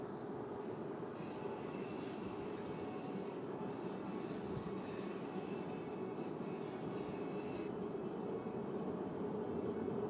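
A C-17 transport plane passes slowly at an air show, a distant, steady engine roar holding evenly throughout at low level, with no voices over it.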